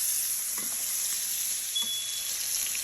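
Salmon fillet frying in browned butter in a pan gives off a continuous close sizzle, with a couple of soft thumps as the fish is turned.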